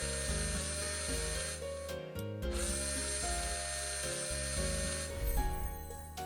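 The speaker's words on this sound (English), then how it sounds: "Next I'll attach the router. With the same aiming and activating process I can bevel the edges of the wood." A router bevelling the edges of a wooden board in a DIY workshop simulation game: a loud, continuous, droning power-tool whine with shifting pitch and brief interruptions, close and steady throughout.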